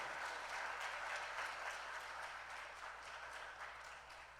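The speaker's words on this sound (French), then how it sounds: "Et pourquoi ne pas applaudir chaleureusement les partenaires de Télégénie" Applause from a studio audience at a televised school quiz match between two colleges, a steady wash of clapping throughout that fades slightly toward the end, with no voices over it.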